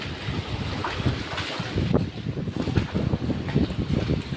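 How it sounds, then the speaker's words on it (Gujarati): Water rushes through three drain channels in a broad, steady hiss and churn, loud and close with no voices. "ત્રણેય નાળામાં પાણી જાય છે"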